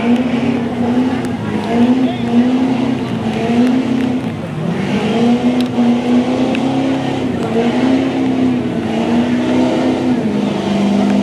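A Chevrolet Silverado pulling truck roars at a truck and tractor pull in New Lexington, Ohio, its loud engine holding a high, strained rev that rises and falls steadily throughout.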